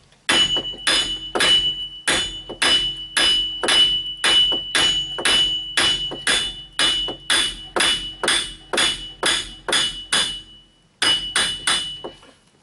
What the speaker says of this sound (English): let's just get a hammer and tap on this